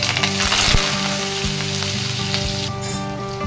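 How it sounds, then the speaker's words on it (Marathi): Mustard seeds spluttering in hot oil in a pan for khaman dhokla tempering, a loud, steady sizzle with dense crackling pops throughout and no voices. "राई छान मस्त तडतडू देऊया. राई तडतडली आहे."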